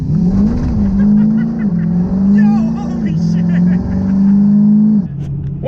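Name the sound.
diesel truck launching and accelerating hard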